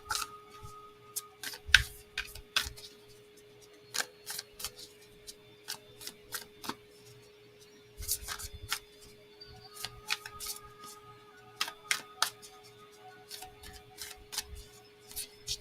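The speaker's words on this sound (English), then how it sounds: "Let's give these a shuffle." Kyle Gray oracle cards shuffled by hand, with repeated crisp clicking and riffling bursts in an irregular rhythm, close and fairly quiet, no talking.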